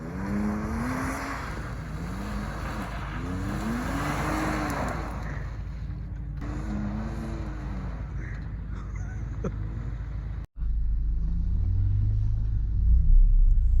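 An off-road Jeep engine in four-low rumbles and labors at low revs while climbing, the pitch rising and falling as it strains, then a sharp clunk and deeper, louder revving.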